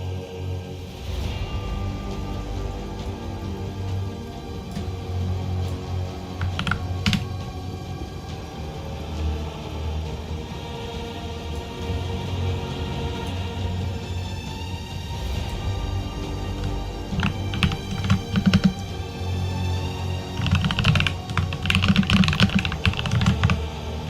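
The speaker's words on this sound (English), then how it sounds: "Apologize for the ticky-tackings of the keyboard occasionally." Steady computer keyboard typing runs throughout, with rapid irregular key clicks over a low background rumble, close and moderately loud, no voices.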